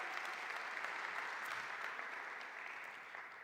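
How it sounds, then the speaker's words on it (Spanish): A church congregation applauds for a few seconds at a Sunday service, a dense and steady wash of clapping from many hands that fades slightly toward the end, with no one speaking over it. "Y le damos un fuerte aplauso al Señor"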